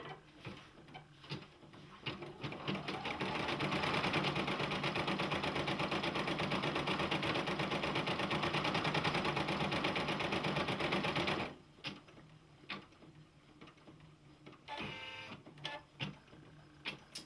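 A Brother PE-800 embroidery machine stitches a design with a steady, close, rapid mechanical ticking and whirring for several seconds, then stops, leaving scattered clicks and handling noises.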